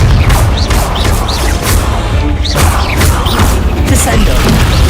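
Repeated loud booming blasts and crashes from a Confringo fire spell in Hogwarts Legacy, dense and continuous with whooshes and clattering game effects layered on top.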